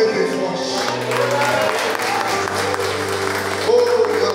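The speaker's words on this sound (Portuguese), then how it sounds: "aplaude Ele bem forte" A church congregation claps during a worship service while organ or keyboard chords sustain underneath, the applause steady and mixed with the music throughout.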